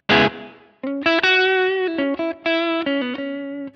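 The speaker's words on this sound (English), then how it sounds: "let's add in our reverb here." A clean electric guitar through a Line 6 Helix amp model plays a short melodic phrase of ringing single notes and chords, each tail washed in a spacious reverb.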